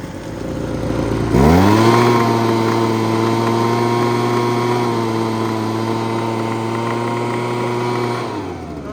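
A Ryobi leaf blower's small two-stroke engine, running on varnished old fuel and needing carburetor work, jumps from idle to a steady high throttle whine with a rough rattling edge, then drops back down, close and loud.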